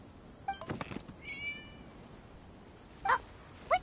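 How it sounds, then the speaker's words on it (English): A cat meows in a video game, a couple of short meows near the start, a quieter chirping trill, then two more sharp meows near the end against a quiet background. "It was just a cat."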